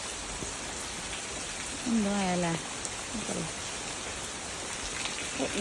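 Steady heavy rain hisses throughout, with a brief spoken phrase partway through.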